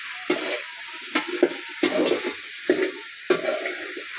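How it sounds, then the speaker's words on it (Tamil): Ingredients sauté in hot oil in a wide pan, a soft steady sizzle broken by several sharp scraping stirs of a spoon against the metal, close and moderately quiet with no talking. "நல்லா தாங்க வதங்குது."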